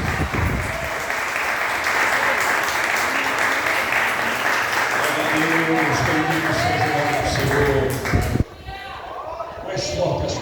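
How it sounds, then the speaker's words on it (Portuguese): A church congregation claps loudly and steadily in praise to Jesus, sustained applause with voices mixed in, dropping off abruptly near the end. "Mais forte as palmas para Jesus"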